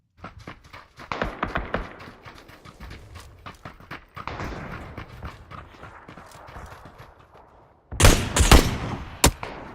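Gunfire in a shooter video game, with irregular sharp shots scattered over several seconds and a louder, denser volley near the end. Nobody speaks.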